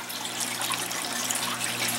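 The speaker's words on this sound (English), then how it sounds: "Looks like we've got good water flow there." Water pouring steadily through a ball valve into an aquaponic grow bed, a constant broad splashing rush that stays even and close throughout, with no voices.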